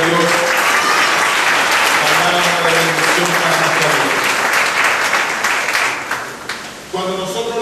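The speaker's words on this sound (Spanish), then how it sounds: "Den un aplauso a la palabra de Dios." A church congregation applauds steadily and loudly throughout, a dense wash of clapping from many hands, with a few voices rising briefly underneath.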